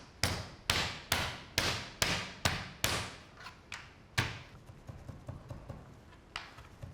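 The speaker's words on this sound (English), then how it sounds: "And with the side of the knife, all you do is hammer it down." The side of a knife hammers lamb chop meat flat on a board: seven loud, evenly spaced thuds, then a few slower knocks and lighter taps trailing off.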